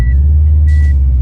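A 2002 Subaru WRX STI gives two short reversing warning beeps, close and clear over a loud, steady low engine rumble inside the car.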